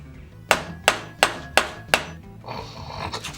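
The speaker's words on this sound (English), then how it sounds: "Wonder if I might be able to peen that a little bit." Five sharp, evenly spaced hammer blows ring out close by as a metal rod is peened, each strike a bright metallic crack with a short ring, followed by softer scraping handling noise.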